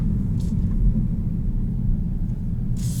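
A 2021 Kia Stinger GT-Line all-wheel-drive sedan driving and turning around, heard from inside the cabin as a steady low engine and road rumble with a couple of brief hissy bursts and no talking.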